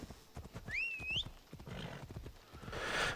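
A horse gallops in Assassin's Creed Odyssey, with rapid rhythmic hoofbeats running throughout, a sharp whinny early on and a rush of hoof and ground noise toward the end.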